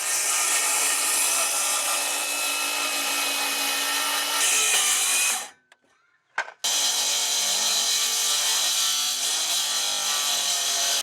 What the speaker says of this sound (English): For a close-up look of this plunge cut